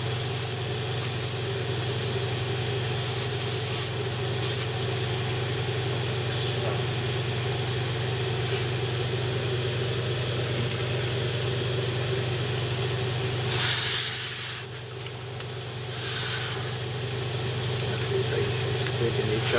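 An airbrush sprays primer onto a Bandai Halo Master Chief model kit as a steady close hiss over a low compressor hum, dipping briefly partway through before resuming.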